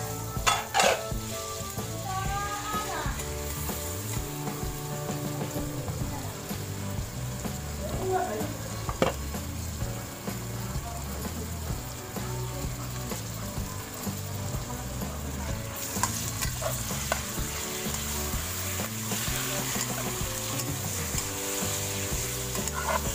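Meat sizzles steadily in a hot pan while being stirred for menudo, a continuous frying hiss with scattered scrapes and clinks of the utensil against the pan throughout.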